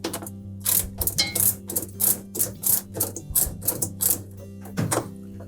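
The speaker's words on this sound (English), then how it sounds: "So using a 13mm socket, we simply need to loosen those bolts." A 13mm socket ratchet loosens the rear shock bolts on a Samsung washer, rapid rhythmic clicking in a steady series of bursts, close and clear with no talking.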